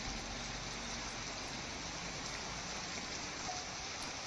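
Steady first monsoon rain falling around Ambaji in north Gujarat, a dense, even hiss of drops on surfaces that holds constant throughout with no voices.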